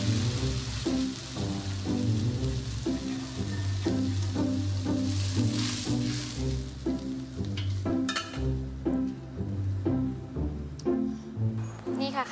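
Egg omelette frying in a pan with a steady, rain-like sizzle and crackle that runs throughout, under background sounds.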